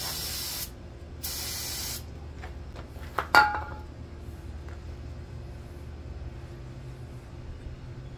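Brake fluid sprayed from an aerosol can onto brake parts of a Can-Am X3 during a pad replacement, two long close hissing bursts near the start, then softer clinks of metal parts against a quiet background.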